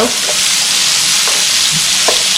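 Garlic frying in a hot pan gives a loud, continuous sizzle and crackle throughout, with a few faint stirring clicks beneath the steady hiss; no one speaks.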